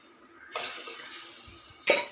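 About one and a half litres of water is poured into tamarind and tomato for a wedding-style pepper rasam, a steady close rushing pour with a brief fresh splash at the end and no talking.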